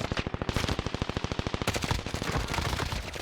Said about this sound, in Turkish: Oğlum kim kime nereden sıkıyor görmüyorum